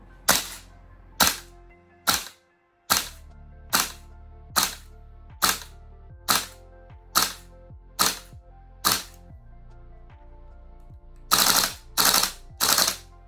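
A gas airsoft gun fires with an empty magazine and no BBs, giving about a dozen sharp, close cracking pops spaced roughly a second apart, each followed by a short decaying rattle, with a tighter, harder trio at the end.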